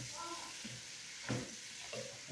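Kale frying in a pan with bacon and calabresa nearby, giving a quiet, steady crackle and sizzle with a few louder pops and stirring scrapes near the end.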